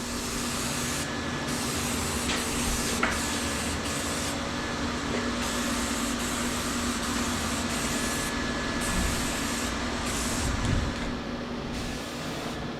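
Black spray paint hisses from an aerosol can onto a custom metal rack for a pressure cleaning rig. The spray comes in a steady series of bursts with short pauses between them, close and fairly quiet.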